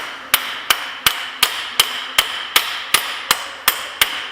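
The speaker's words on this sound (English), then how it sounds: "And just hammer it in." A hammer strikes a nut threaded backwards onto a Toyota Tundra front CV axle to drive the axle into the hub. About a dozen sharp metallic blows fall at an even pace.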